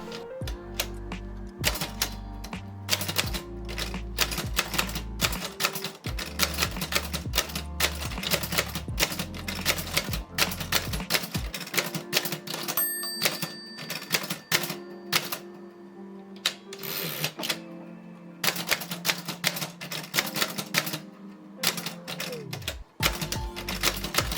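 An 1899 Chicago typewriter from the Chicago Typewriter Corporation, with a sometimes-sticking escapement, types in dense, fast bursts of sharp keystrike clacks and mechanical carriage rattles, close and loud, with a couple of brief pauses and no talking.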